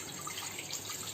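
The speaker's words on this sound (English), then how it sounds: "So add water" Water poured into a pan for sugar syrup, a brief continuous splashing pour at close range with no voices.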